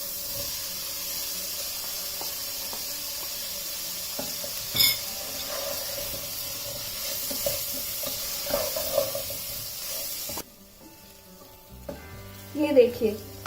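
Potatoes frying in a masala stuffing for Hyderabadi lukmi sizzle steadily while a spoon stirs and scrapes the pan, then the sizzle drops away before a brief clatter of utensils near the end.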